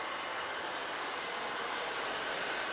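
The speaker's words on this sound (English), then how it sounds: "This is the vent of the blow dryer." A handheld hair blow dryer runs steadily at close range during a round brush blow-dry with its nozzle vent attached, giving an unbroken, loud broadband whoosh from start to finish.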